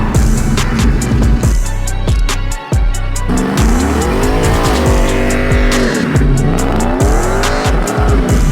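A Chevrolet Trailblazer SS with a Corsa exhaust revs hard and loud, engine pitch rising and falling in repeated sweeps, with sharp bursts and brief dips between pulls.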